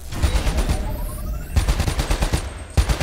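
An LMG fires in Call of Duty: Black Ops III co-op: loud, close bursts of rapid, evenly spaced machine-gun shots with a brief pause in between.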